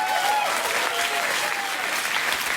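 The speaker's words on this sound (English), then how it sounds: "I always get a round of applause on a fart joke." Studio audience applause on a late-night talk show, a dense steady wash of clapping that holds loud and even for the whole stretch.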